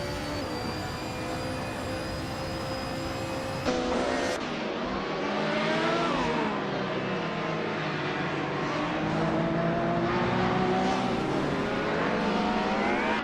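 Race car engines in a racing video game, including touring cars such as a 1996 Vauxhall Vectra, a dense continuous roar of several revving engines with shifting pitch, loud and close, with no talking.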